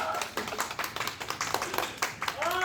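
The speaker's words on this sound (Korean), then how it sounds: "그래서 박수 치면 다 같이 박수!" In a gym, a small group claps together in quick, uneven bursts, close and lively, while voices talk and laugh over the clapping.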